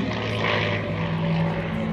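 North American P-51D Mustang propeller fighter passing overhead at an air show, a steady droning piston-engine roar with a sustained low hum throughout, fairly loud and alone.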